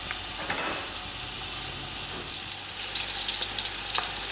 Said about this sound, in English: we have to wait for our onion to cook out